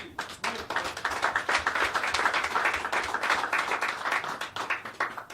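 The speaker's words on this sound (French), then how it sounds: "je t'applaudis encore" Audience applause at a press conference for a blues nights event, dense clapping from a small crowd rising and holding steady, fairly close, with no talk over it.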